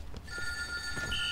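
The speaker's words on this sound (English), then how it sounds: "We're about to get a phone call." Telephone ringing inside The Godfather 2 video game, a steady electronic ring tone sounding over a low hum of game background noise, with no talking.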